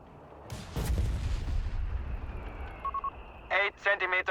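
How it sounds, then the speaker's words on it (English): Muzzle thumps of an 8 cm mortar in a Company of Heroes 3 match, several short sharp bursts at the end following a louder early blast, with a commentator talking over the battle sounds. "8-centimeter mortar"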